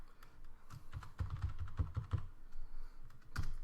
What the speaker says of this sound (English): I'm going to type in my password here.